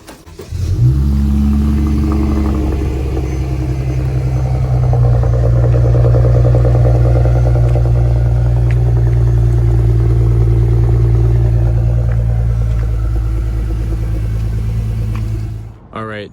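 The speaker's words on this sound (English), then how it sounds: "I'm just going to let you guys listen to the cold start" A Dodge Challenger V6 starting cold, catching with a brief surge and then holding a loud, steady idle with deep rumble that runs for about fifteen seconds before cutting off abruptly.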